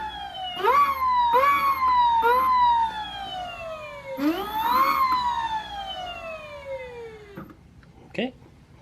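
A Sur-Ron Light Bee electric dirt bike with a newly fitted QS165 motor revs with its chain unhooked. Close, loud motor whine climbs and falls in several bursts, then winds down to quiet.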